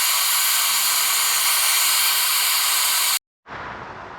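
A loud, steady heat-gun roar heats a stuck, stripped Softail brake bleeder screw, running unbroken for about three seconds, then cutting out abruptly before restarting with a duller hiss.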